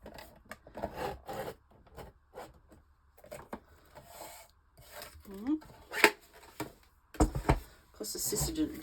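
A small riveting cutter snips apart two small vintage pieces, giving a few scattered short clicks and scraping rubs, close and fairly quiet, among handling noises.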